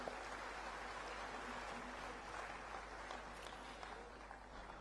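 An audience at a Gujarati poetry and music festival applauds the performing artists with sustained, even clapping from the whole crowd that carries on unbroken throughout, heard from a distance.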